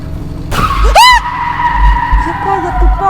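A car skids and strikes the player in the horror game Fears to Fathom, Norwood Hitchhike episode: a sudden loud tire screech with a sweeping squeal, then a lingering tonal hum over low rumbling.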